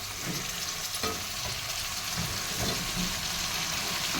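Brinjal pieces frying in a pan with garam masala for a coconut curry, a continuous close sizzle with occasional stirring knocks and no talking.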